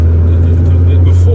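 An early Porsche 911 fitted with a GT3 muffler runs close by, its engine giving a loud, steady, deep drone through the whole short stretch, while someone talks over it.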